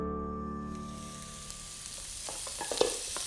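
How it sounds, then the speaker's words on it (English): Roughly chopped onion cooks in a pan for a paprika sauce, a steady soft sizzle with a few light stirring knocks near the end and no talk. "start your sauce by cooking one roughly chopped onion"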